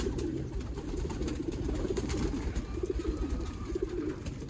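Champion flying pigeons in a breeder's loft keep up a dense, continuous low cooing and rustling, close and steady throughout.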